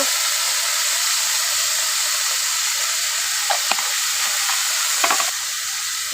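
Salted meat sizzles in a pan on a gas stove, a steady close hiss with a few soft pops and utensil clicks near the end.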